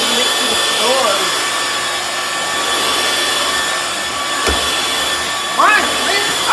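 A Hoover FloorMate hard floor cleaner runs with a steady motor whine and brush hum on a mixed hard floor, with intermittent scrubbing and squeaky rubbing sounds over the continuous drone.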